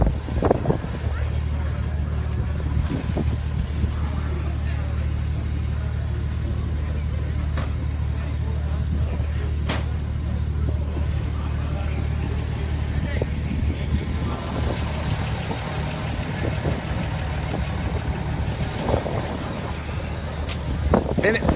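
A high-horsepower truck engine runs on a dyno at a competition event, producing a steady, heavy low rumble throughout, with wind buffeting the microphone and faint background commotion.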